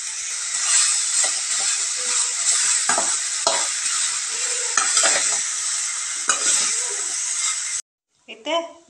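Chicken curry masala frying and being stirred in a pan, a steady loud sizzle with repeated scraping strokes of the spoon throughout, cutting off briefly near the end before a voice speaks.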